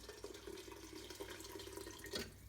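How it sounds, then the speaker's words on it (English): Water pours into a pot of pumpkin soup in a home kitchen, a quiet, close, steady trickle with a slightly louder splash near the end. "grab some more water, pour that in"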